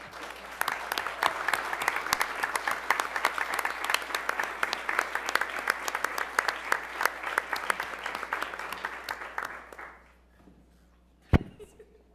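An audience at a school board meeting gives the field hockey team a sustained round of applause that fades out after about ten seconds, followed by a single sharp thump.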